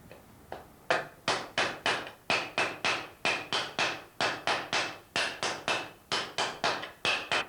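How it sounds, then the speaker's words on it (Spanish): A wooden mallet pounds a piece of metal into a rounder shape, sharp even blows repeating in a steady rhythm of about three per second, close and loud with no talk. "todo ese tipo de marcas ahora lo vamos a eliminar trabajando con un martillo de madera"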